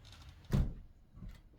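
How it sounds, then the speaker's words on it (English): A door being opened, likely a door fitted with an adjustable draft stopper: a single dull thump followed by a fainter knock, close and alone. "Let's open up that door here."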